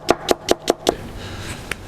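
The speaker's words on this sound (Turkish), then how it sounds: "Hemen şöyle iki dal taze soğanımı ince ince kıyıyorum." A knife finely chops spring onions on a cutting board, five quick evenly spaced strikes, then a pause and one more sharp tap, close and crisp.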